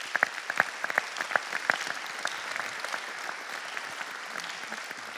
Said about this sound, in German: Einen herzlichen Applaus für die beiden.